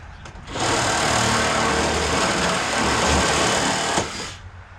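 A Sawzall reciprocating saw cuts on a Dodge Power Wagon under restoration, starting abruptly into a loud, close, buzzing rattle that holds steady for about three seconds before cutting off and winding down.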